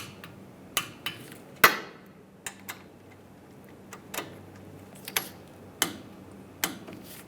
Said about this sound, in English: And now I'm going to torque these to 21 foot-pounds.